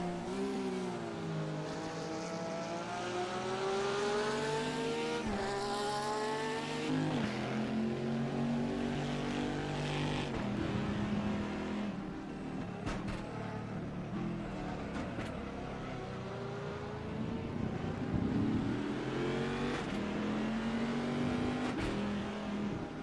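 Porsche race car engines roar and rise in pitch through the gears in racing game R3E, with several cars howling close together in a continuous loud drone.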